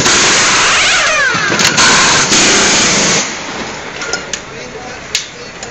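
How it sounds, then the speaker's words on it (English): Loud, steady hiss and rattle of a pneumatic tyre tool running during a tyre change for about three seconds, then cutting off and leaving a quieter background with a few faint knocks. "The pneumatics is so loud."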